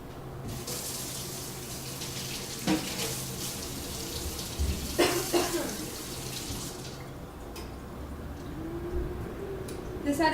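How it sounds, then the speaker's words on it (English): Tap water runs into a kitchen sink while an egg-coated utensil is rinsed under it, a steady broadband wash with a few clatters, a voice talking over part of it. "This had egg all over it, and so I had to rinse it off real fast"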